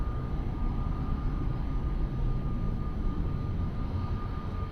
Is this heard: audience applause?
no